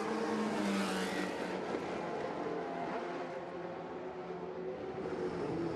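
A 1971 Surtees race car running through a chicane on the Baku circuit, its engine a loud, continuous high-pitched roar that eases slightly midway and then holds steady.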